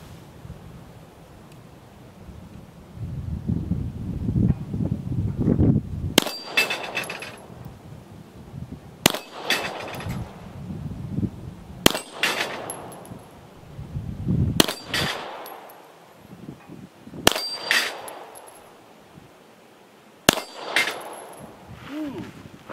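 A Polish P-83 Wanad pistol fired at a steel plate target 15 yards away: six slow, evenly spaced shots, each followed by a sharp metallic ring, with quiet ambient noise between.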